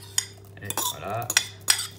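Vegetable flan batter being mixed with a utensil in a bowl, with several sharp clinks of metal against the bowl among continuous close scraping and stirring, no talk.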